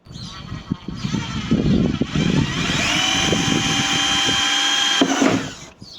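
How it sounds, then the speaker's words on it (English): A power drill bores a hole through the body of a 2013 Chevrolet Tahoe, a loud, steady whine that rises and holds for several seconds after some bumping and handling noise, then cuts off. "I'm gonna drill a hole in here. Drill a hole through it."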